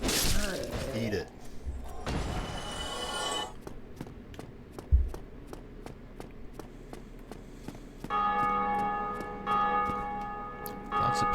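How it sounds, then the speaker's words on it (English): A bell tolling in Dark Souls Remastered, its long ringing tones heard clearly near the start and again toward the end, with thuds, footsteps and game sounds between them and someone talking over parts. "Lots of people ringing that bell."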